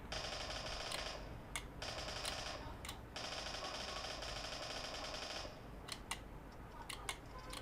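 Rapid automatic gunfire in PUBG Mobile, played on a mobile gaming controller. Several sustained bursts of fast rattling shots, separated by brief pauses and a few single cracks near the end, heard at moderate level.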